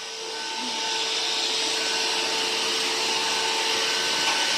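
A household vacuum cleaner runs steadily during whole-house cleaning, a loud, continuous whooshing roar that swells slightly at the start and then holds level, with no voices.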